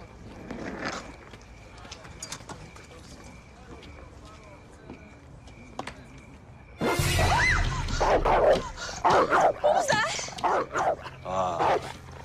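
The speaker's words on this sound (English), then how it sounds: "She's afraid of dogs, dude. He's man's best friend." A dog barks and yips in a loud, busy stretch mixed with people talking, after a quieter opening. The sound comes from a horror film scene.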